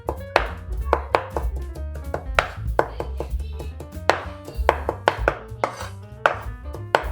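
A kitchen knife chops raw chicken on a cutting board in a string of sharp, close, fairly regular knocks, some quicker than others, with no one talking.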